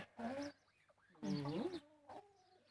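Farm chickens cluck in short, close bursts near eggs, with ducks nearby; a few separate clucks rise and fall with quiet gaps between them.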